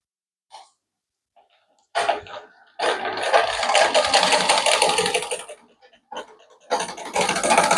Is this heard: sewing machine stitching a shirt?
yes